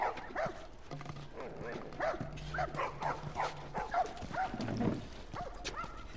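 Several small puppies bark and yip in short, high bursts in a street scene of The Last of Us video game, fairly faint, with brief hoof-like clopping and a low talking voice beneath.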